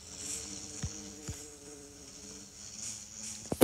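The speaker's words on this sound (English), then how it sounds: "First we have bees." Bees buzzing in a video game with a texture pack, a steady thin insect drone that continues throughout, with a few soft clicks over it.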